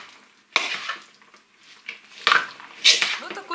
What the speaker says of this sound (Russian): И заправить майонезом, либо сметаной. И хорошенечко, тщательно перемешать.